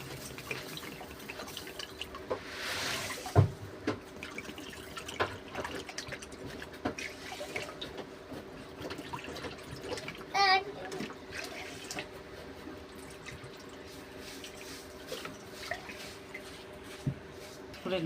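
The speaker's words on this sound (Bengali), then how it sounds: "4 বাটি জল দেব।" Water pours from a bowl into a pot of sugar while making rasgulla, a soft, steady trickle with a few drips and splashes, fairly faint against a quiet kitchen background.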